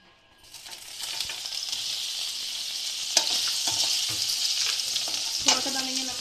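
Paneer dropped into a hot pan begins sizzling and frying, a steady close hiss with scattered clinks and scraping from stirring.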